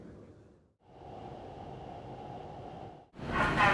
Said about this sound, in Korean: 오전 11시 12분 동탄역에서 GTX 열차를 타고 출발하겠습니다.